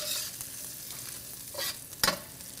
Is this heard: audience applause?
no